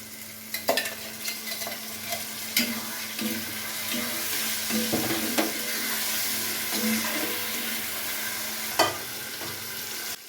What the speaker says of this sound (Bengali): তারপরে পেঁয়াজ ও রসুনের পেস্ট দিয়ে ভালোভাবে আবার নাড়তে হবে